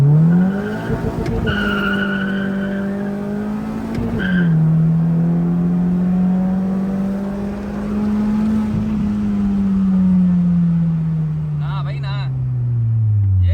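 A modified Honda hatchback, one of a K24-swapped EF, L15 or B18B, accelerates hard from first gear, a loud close engine note rising and shifting through gears, with brief tire squeal and tonal whines near the end.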